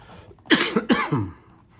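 Two sharp, harsh coughs close together, loud and near, with a quiet room behind them.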